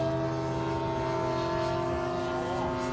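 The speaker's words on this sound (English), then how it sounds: "Mark 9 Spitfire was the first Spitfire with 4-bladed prop." A radio-controlled 1/5 scale Mark 9 Spitfire warbird model with a four-bladed propeller flying at an RC meet, giving a steady droning engine tone with strong sustained harmonics, loud and constant throughout.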